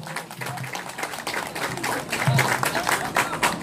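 Applause from the crowd at the opening ceremony of a national jokgu (foot volleyball) tournament in Yeongwol, a steady few seconds of clapping that swells slightly toward the end, with a voice faintly under it.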